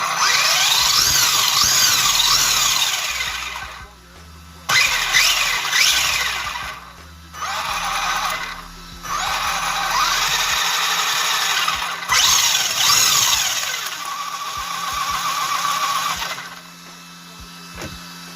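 A loud Hobbystar 3500kv electric motor in a Traxxas Rustler 4x4 RC car whirs in bursts, spinning up and cutting out several times with short pauses, its pitch rising and falling with each run.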